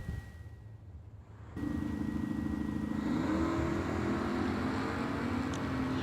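Drag racing at the New Year Nationals: a 1972 Oldsmobile from West Virginia and an S10 from Pennsylvania launch side by side, a loud engine roar cutting in abruptly and holding steady, with a rising tone as they accelerate away.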